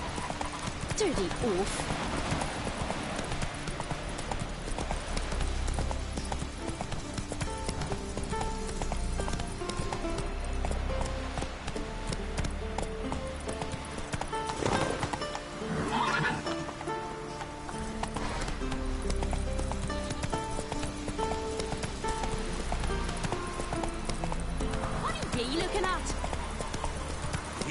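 In a video game, the horse Roach trots with steady rhythmic hoof clip-clops that continue throughout, and a brief whinny comes midway, all under frequent speech and background music.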